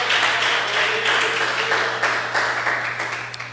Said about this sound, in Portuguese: Se assenta e pode aplaudir a Jesus.